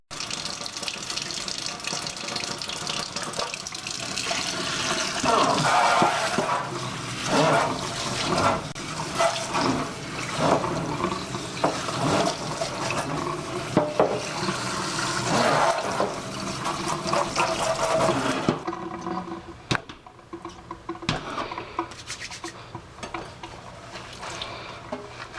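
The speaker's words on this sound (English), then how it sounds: "I decided just to wash her hair" A faucet runs loudly and steadily while a doll's hair is washed with dish soap, the stream splashing into a sink for about eighteen seconds before easing into lighter trickling and dripping.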